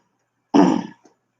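A single close, harsh cough or throat clear bursts out, followed by a faint brief grunt-like trailing sound, then silence.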